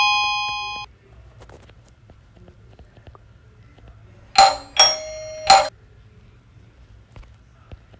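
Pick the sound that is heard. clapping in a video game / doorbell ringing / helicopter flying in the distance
doorbell ringing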